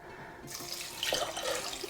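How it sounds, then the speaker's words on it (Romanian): Water poured from a glass into a bowl holding a dry rose of Jericho plant: quiet at first, then a sudden continuous splashing gush that grows slightly louder and bubbles until the end, with no talking. "și punem apă"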